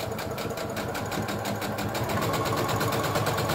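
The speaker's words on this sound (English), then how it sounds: "Let's start sewing right up here." A sewing machine fitted with a walking foot stitches fabric for a dog bandana, running in a steady, fast, even mechanical rhythm, close and continuous with no talking.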